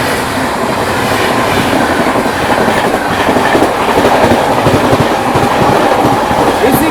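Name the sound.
Howrah Rajdhani express train passing at speed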